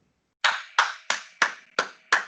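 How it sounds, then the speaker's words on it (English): Six sharp hand claps from a single person, evenly spaced about a third of a second apart, close and fairly loud with short decays, with no talking over them. "He has my applause."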